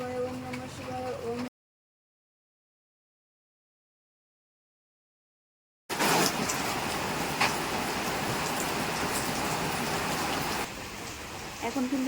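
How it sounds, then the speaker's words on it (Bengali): Heavy monsoon downpour, a dense steady hiss of rain falling near and loud, broken by a silent gap partway through, then continuing strongly to the end. "বৃষ্টিটা আবার বেড়েছে মানে মুসলধারে বৃষ্টি পড়ছে"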